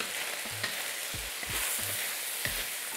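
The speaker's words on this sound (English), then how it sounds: "Give it a stir." Garlic chive flowers stir-fry in a hot wok, a steady close sizzle broken by a few scraping stirs of the spatula, with no talking.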